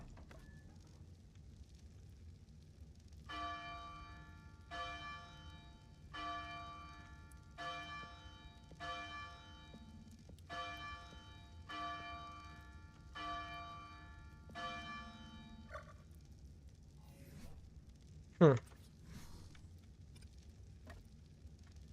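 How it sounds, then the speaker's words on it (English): A bell is rung repeatedly in the ARK video game. About ten evenly spaced, resonant chimes sound over a quiet crackling background, followed by a single sharp, sweeping effect near the end. "instead of sounding the alarm, ring the bell."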